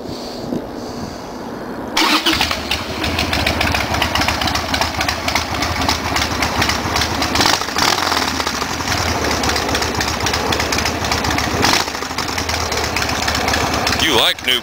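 A Harley-Davidson Sportster, freshly serviced with new spark plugs and oil, cranks and fires after a quiet moment, then settles into a loud, steady, lumpy idle close up that holds to the end.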